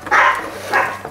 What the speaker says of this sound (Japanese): またワンワン言うてはる。